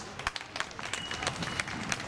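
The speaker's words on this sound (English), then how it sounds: "Give him a round of applause." An outdoor audience at a Sri Lankan Canadian protest rally claps scattered and sparse, with individual hand claps close and irregular for about two seconds and no talking.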